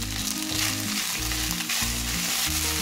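Butter sizzles and crackles steadily under soaked rice being sautéed for Turkish perde pilavı, a continuous close frying hiss with faint stirring.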